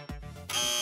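A loud electronic game-show buzzer on the Family Feud studio set blares in a single sustained burst after a short low thump, with no talking over it.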